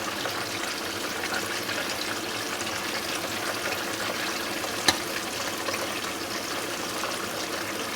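Southern-style fried chicken wings lifted from a deep fryer to drain, with hot oil dripping and hissing in a steady, close wash of noise broken by a single sharp click near the end.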